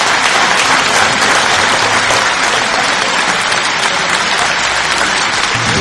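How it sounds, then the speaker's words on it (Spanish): Loud, sustained applause from an audience at a Señor de los Milagros religious festival celebration in Santiago de Chile, dense clapping filling the whole stretch without a break. "entre todos demos un fuerte aplauso"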